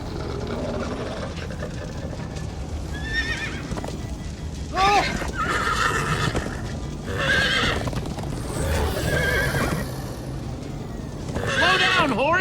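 Horses in a Minecraft Story Mode game neigh and whinny repeatedly over continuous galloping clip-clop and rumbling game noise, loud and busy throughout.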